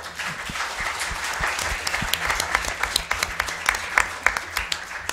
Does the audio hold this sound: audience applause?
yes